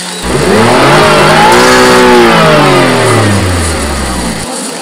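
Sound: engine starting and revving

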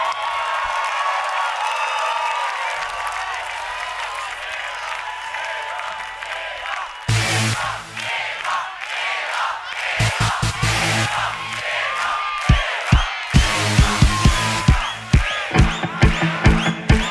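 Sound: audience applause and cheering at a concert

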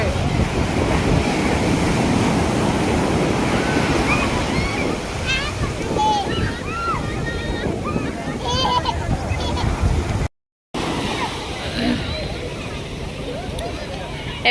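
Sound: sea waves getting bigger at Puri beach

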